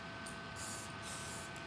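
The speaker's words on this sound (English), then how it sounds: "I'm just going to spray my entire head with Elnett." Elnett hairspray hissing from an aerosol can in steady bursts over a head of hair, a close, continuous airy spray that swells and eases slightly across the short stretch, with no talking.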